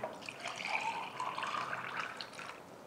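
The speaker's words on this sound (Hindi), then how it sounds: "पानी डाल दें" Water is poured into a glass for a homemade glucose summer drink, a soft, steady trickle and fill lasting a few seconds, fairly quiet with no talking.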